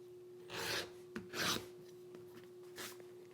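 A beveling tool is drawn along the edge of leather for firefighter suspenders, giving three short, close raspy scraping strokes over a steady low electrical hum.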